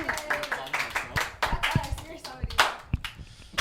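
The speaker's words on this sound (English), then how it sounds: "let's give them a round of applause" Scattered hand claps and cheering from a small crowd, with voices mixed in; the clapping is uneven and moderately loud rather than a sustained roar.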